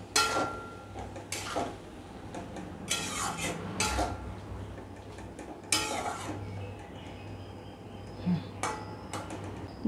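Okra stir-fried with chili powder, cumin powder and Kashmiri chili in a pan: a utensil clinks and scrapes against the metal in irregular strokes, fairly close but soft, over a low kitchen hum.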